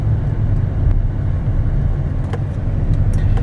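A 2015 Chevrolet Silverado 3500HD 4x4 pickup with a 6.0L V8 drives along, giving a steady, loud low engine rumble with road noise and no talking.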